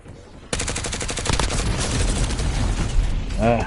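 Loud rapid automatic gunfire in a Call of Duty match breaks out suddenly and rattles on continuously, with a brief voice at the very end.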